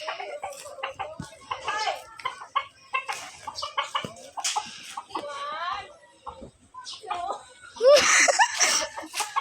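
Chickens cluck and squawk in short bursts throughout, with people talking and laughing nearby and a louder flurry of calls near the end.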